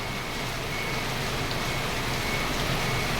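Steady, dense rainfall during Typhoon Carina hisses without pause, loud and close, with a faint low rumble underneath and no voices.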